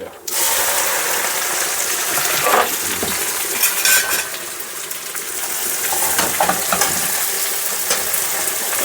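Okra sizzles and crackles steadily in hot tempering oil in a kitchen, a dense continuous frying hiss that starts abruptly and holds at a loud, close level, with faint stirring clinks and no talk.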